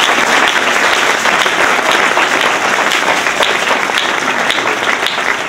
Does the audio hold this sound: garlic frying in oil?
no